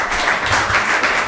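An audience at a town Board of Selectmen meeting claps together in a loud, continuous wash of applause filling the room.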